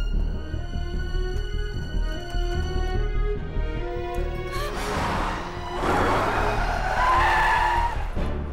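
Car tyres squealing in a movie chase, a sustained rising screech over rumbling engine and music, growing harsher and louder toward the end.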